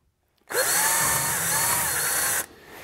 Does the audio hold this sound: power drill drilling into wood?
yes